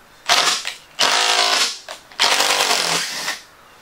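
A power drill backs a screw out of an OSB workbench top, with three bursts of whirring, each about a second long, close by and loud, separated by short pauses.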